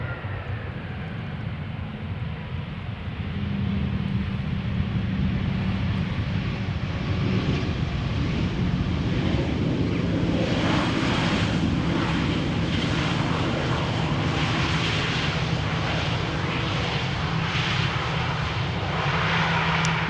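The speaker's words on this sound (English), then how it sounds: "there is an Embraer 190 arriving from Hanover coming this way" Embraer 190 airliner arriving from Hanover on approach to the Polderbaan runway 18R at Amsterdam Schiphol, a steady broadband jet roar that rises after a few seconds and holds loud and continuous, with no talk.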